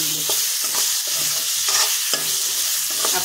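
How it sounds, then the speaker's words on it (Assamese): Half-fried vegetables hit a hot pan with a steady, loud sizzle, while a spatula scrapes and stirs them in repeated strokes close by. "এতিয়া মই আগতে হাফ ফ্ৰাই কৰি থোৱা ভাজিখিনি এনেদৰে ইয়াতে দি দিলোঁ"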